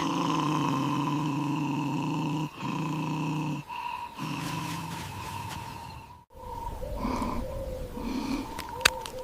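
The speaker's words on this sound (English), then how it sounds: "The badger fiercely growls back." Harsh, rumbling animal growls with snorting bursts, loud and close, broken by brief pauses and ending in short scuffling squeals.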